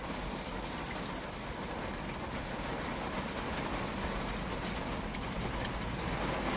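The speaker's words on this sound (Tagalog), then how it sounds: "Napakalakas ng ulan dito" Steady, dense hiss of heavy rain pouring down without a break in Batangas, Philippines, broadband and constant throughout, with no voices.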